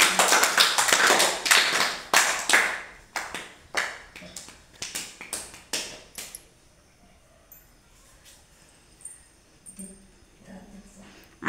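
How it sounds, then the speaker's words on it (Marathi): A group of children at an Anganwadi preschool clap their hands together in a burst of loud, uneven applause lasting several seconds, then fade to scattered taps and quiet. "टाळ्या वाजवा सगळ्यांनी"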